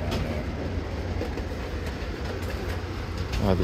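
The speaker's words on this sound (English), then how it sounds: "Wow, this train is crowded." A crowded subway train stands at an underground station platform, its steady low rumble and hum filling the space, with faint clanks and a brief rise in noise near the end.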